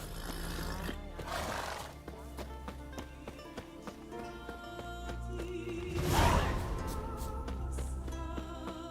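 Horse whinny and snorting from The Witcher 3 video game, a loud burst near the middle over continuous game music and ambience.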